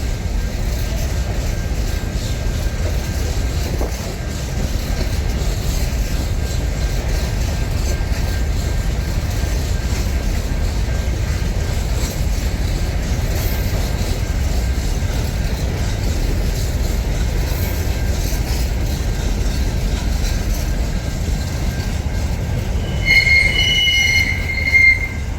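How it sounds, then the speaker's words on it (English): SCT freight train hauled by four locomotives passing through Tailem Bend loop, a loud, sustained rumble of wagons with high metallic wheel squeals throughout, heard up close and alone. "So they're big bloody trains through here."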